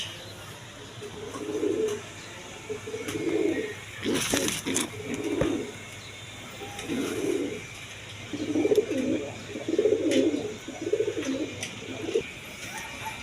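A pair of Mokki pigeons housed in clay pots at a pigeon seller's loft coo in repeated low, throaty bursts, several calls spaced every second or two, close and clear over a faint steady hum.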